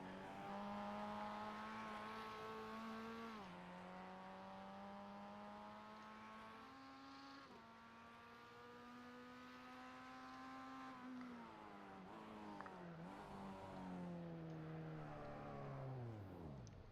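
A race car engine on a victory lap burnout at the Rockingham Roval, holding a steady droning pitch that rises and falls in several sweeps, moderately loud and continuous with no talk.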